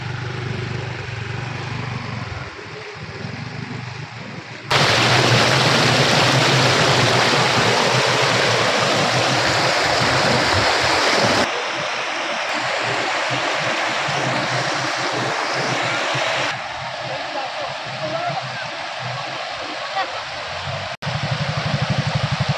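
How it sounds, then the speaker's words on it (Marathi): A river swollen by monsoon rain rushes and roars steadily near a village picnic spot close to Mumbai, a loud continuous wash of water with abrupt shifts in level, and no one speaks. "पावसामुळे नदीचं पात्र वाढलेलं आहे"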